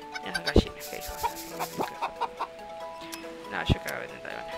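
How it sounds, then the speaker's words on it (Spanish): Cartoon chickens cluck in the Farm Frenzy 4 farming video game, with a series of short clucks and squawks over bright musical game tones and chimes. "Mira, son gallinas"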